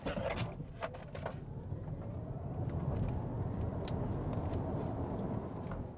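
An MG IM5 electric car accelerates hard on a soaking wet road, a steady broadband rush of tyre spray and road noise holding loud and constant throughout, with no engine note.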